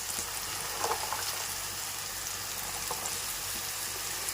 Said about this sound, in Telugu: ఇప్పుడు దీంట్లోకి మనము కట్ చేసి పెట్టుకున్న కాకరకాయ ముక్కలు అనేవి వేసేస్తున్నాం.